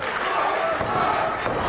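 Crowd cheering at an independent pro wrestling show, a continuous roar of many voices filling the venue, with a commentator talking over it.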